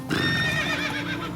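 Roach the horse from The Witcher 3 gives a single close whinny, a wavering, high neigh that rises and trails off over about a second.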